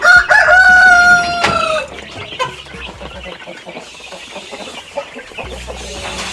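Goliath breed chickens in a poultry house, with a loud nearby rooster crow at the start followed by a dense chorus of clucking and scratching from many birds, continuing steadily throughout.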